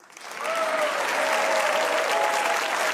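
Studio audience applause from a comedy talk show, a dense, steady wash of clapping that swells quickly and holds evenly, fairly close, with no talking over it.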